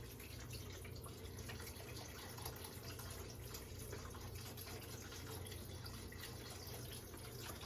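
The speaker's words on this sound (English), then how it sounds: "Now it's time to add some chicken broth." Chicken broth being poured from a container into a pot of low-carb Tuscan soup, a faint, continuous liquid stream with no break and no talking.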